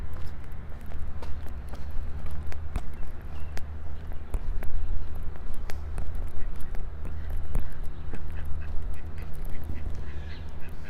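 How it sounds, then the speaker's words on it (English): A duck near a partly icy lake in Regina quacking repeatedly, sharp close calls scattered over steady outdoor background noise with footsteps from someone walking. "A duck, a random duck."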